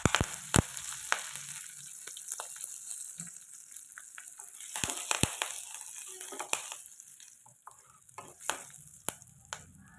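Chillies and curry leaves frying in hot oil for a pumpkin and sweet potato poriyal, a steady crackling sizzle with sharp pops and spoon scrapes against the pan, close and moderately loud, no voices.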